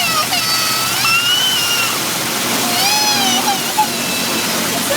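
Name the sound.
water spraying in an automatic car wash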